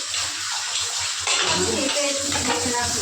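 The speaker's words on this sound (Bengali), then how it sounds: "দেখো বোন বাসন মেজেই যাচ্ছে দেখো তখন থেকে" Dishes being scrubbed and rinsed under a running kitchen tap, with steady water noise throughout and occasional voices and clatter in the background.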